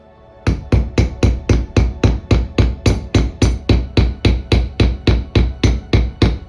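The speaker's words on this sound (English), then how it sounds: "it involves a mallet and an anvil" A mallet strikes a tool and die set on an anvil to set grommets for corsetry, producing about twenty loud, sharp, close-up whacks in a steady, even rhythm after a brief quiet start.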